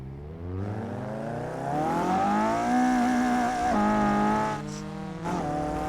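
A racing car engine in the video game Assetto Corsa revs steadily, its pitch rising and holding high with a loud, continuous whine, then dipping briefly during gear shifts.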